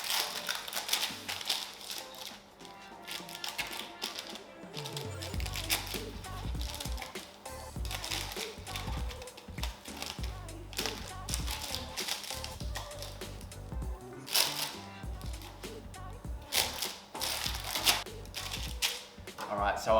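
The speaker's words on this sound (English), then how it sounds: "We're just going to use a knife and just cut it up into portion sizes" A knife scores baked keto seed crackers with a run of dry, crisp clicks and scraping taps in uneven rhythm, fairly close and moderately loud.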